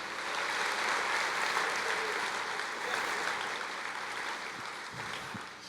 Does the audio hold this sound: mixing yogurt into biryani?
no